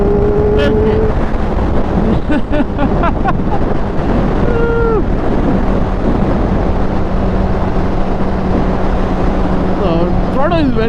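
A Kawasaki motorcycle engine revs in sixth gear at half throttle with a tuned, twitchy throttle response, running loud and close throughout, with rising and falling pitch sweeps over constant wind rush and a person talking.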